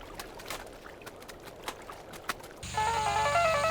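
A phone ringtone starts abruptly, a steady repeating electronic melody that cuts in loud after a stretch of tense film soundtrack clicks and thumps, then rings on continuously in a Hindi-dubbed action movie scene.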